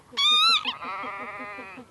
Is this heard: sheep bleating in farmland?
yes